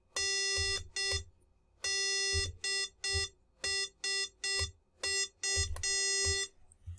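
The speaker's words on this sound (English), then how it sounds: "A quick, easy way to do Morse code." Morse code tones from a microcontroller-driven iambic paddle keyer, using timer interrupts for precise timing: a steady pitched beep keyed in clean dits and dahs, loud and close, with short gaps between characters and no talking.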